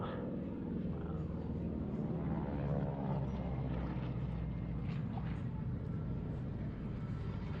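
A Mitsubishi A6M Zero fighter plane passes at an air show, its propeller engine a low, steady drone that swells a little around the middle, heard from a distance over faint outdoor background.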